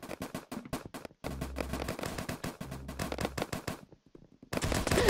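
A gun fires in the Roblox game Arsenal: quick, evenly spaced shots in several rapid bursts separated by short gaps, each crack loud and close, with a dense burst at the end.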